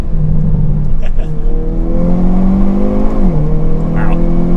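Hyundai Kona N engine revving hard while driving, a loud steady engine drone with rising and shifting pitch throughout, close and continuous, with brief voices over it.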